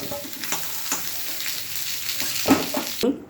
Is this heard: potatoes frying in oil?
yes